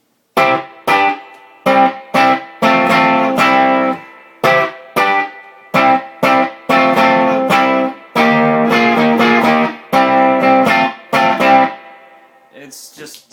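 Distorted electric guitar through a tube overdrive pedal fitted with a Chinese AX tube plays a series of chopped chords and short riffs with pauses between, loud and close, with a gritty overdriven tone.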